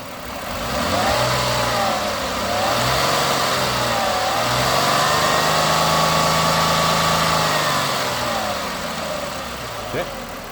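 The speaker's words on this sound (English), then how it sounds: "Can you go rev it up so we can hear if it's got any rattle or anything under here?" A 2005 Ford Freestyle's engine is revved up from idle, rising and falling in steady, sustained pitch sweeps with a close mechanical hum, held for several seconds before settling back down.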